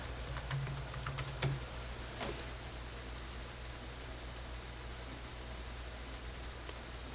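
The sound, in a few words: typing a password on a computer keyboard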